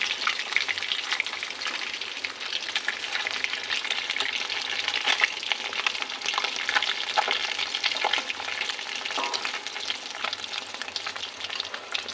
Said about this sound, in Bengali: আমার এক পিঠ ভালোই ভাজা হয়ে গেছে।